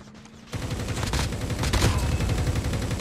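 In Call of Duty Mobile, rapid gunfire crackles close and loud in sustained bursts during a match, with sharp cracks layered over a dense, continuous barrage.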